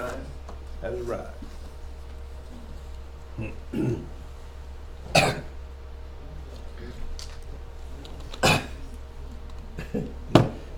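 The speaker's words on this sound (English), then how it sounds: "now that I'm old, I start coughing like that at home." An adult man with allergies coughs and clears his throat several times, each a sharp, close, brief burst separated by pauses, with talking heard in the background.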